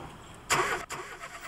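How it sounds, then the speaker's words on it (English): A car engine is cranked over, a short burst of starter churn that breaks off abruptly and then returns more weakly, above a quiet background. "To turn over a car engine a few times"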